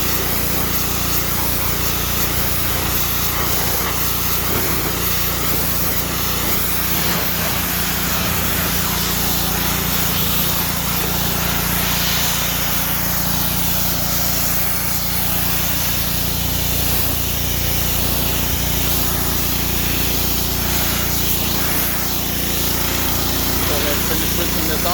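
A Ryobi 3000 psi pressure washer powered by a Honda engine runs steadily, its loud engine drone and hissing water spray continuous and close throughout.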